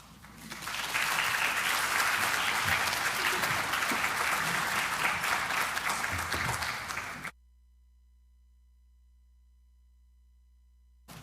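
An audience at a student panel summit applauds as students are welcomed to the stage, a loud, sustained crowd clapping for about seven seconds before stopping abruptly into silence.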